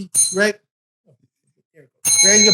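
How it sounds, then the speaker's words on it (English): A Rotary club president's handheld bell strikes in a few bright, ringing tones that sound close, sandwiched between spoken phrases with quiet pauses in between. "I'm a Rotary president. That's our bell."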